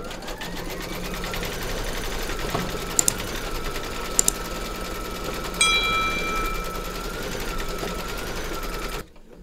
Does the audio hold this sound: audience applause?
no